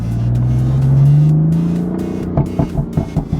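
BMW F80 M3 with a Bootmod3 tune on its stock exhaust, driving in low gear as engine drone rises and falls, then a short series of crackling exhaust burbles pops out near the end.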